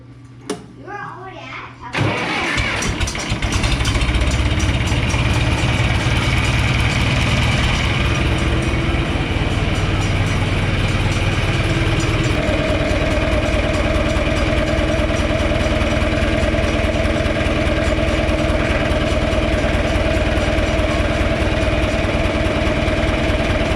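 A John Deere 3020 tractor engine cranks over briefly, then catches and settles into a loud, steady diesel idle that runs on without a break after its oil change.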